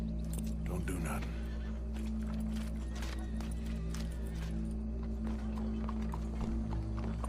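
Horse hooves clip-clop with a whinny in Red Dead Redemption 2, steady hoofbeats over a low droning game ambience while a voice talks intermittently.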